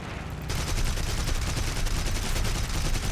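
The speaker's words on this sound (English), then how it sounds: "Cannons are back." Aircraft cannons open up in the War Thunder combat game after a brief quiet lead-in, then hammer on as a dense, rapid, loud burst of fire with no talking.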